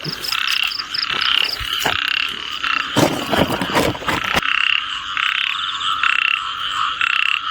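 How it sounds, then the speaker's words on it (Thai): A loud chorus of many frogs croaks in repeating pulses through heavy rain during a village's first downpour, with sharp nearby knocks and splashes partway through. "นี่นี่นี่อันนี้น่าจะกบจริงครับ"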